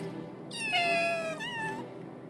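A sick cat in the video game Final Fantasy VII Rebirth gives one long drawn-out meow, rising then falling in two parts, close and clear over a low background hum.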